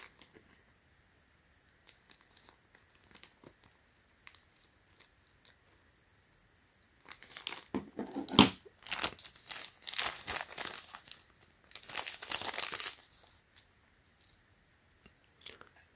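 Scissors snip and crinkle through a plastic pack of celluloid guitar picks, close and quiet, with scattered small rustles before a cluster of sharp cutting and crumpling sounds.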